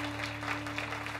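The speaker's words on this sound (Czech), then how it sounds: "Zatleskejte mu." Audience applauding at an album launch concert in Klub Parník, Ostrava: quiet, even, distant clapping from a crowd, with a low steady electrical hum beneath it.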